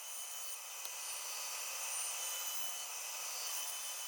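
Bandsaw trimming excess pallet wood from a cut-out bird shape, a steady, fairly faint high-pitched hiss of the blade through the wood that runs unbroken for about four seconds with no voices.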